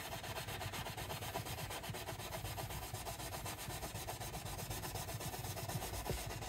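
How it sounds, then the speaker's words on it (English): Steady rubbing and scrubbing on the fingerboard of a Taylor guitar neck, a continuous near-field scouring texture with a gentle back-and-forth rhythm and no talking. "Let's give this fingerboard a quick scrubbing."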